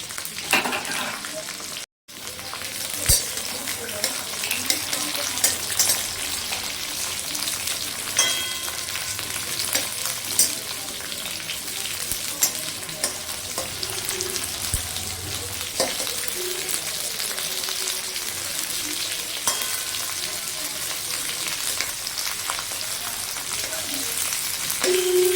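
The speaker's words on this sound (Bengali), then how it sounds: "এবারে আমি ফুলকপিগুলো ভেজে নিচ্ছি।" Eggplant and cauliflower fry in a pan with steady, continuous sizzling and occasional stirring scrapes, close and dominant throughout, with faint background noise and a brief dropout near the start.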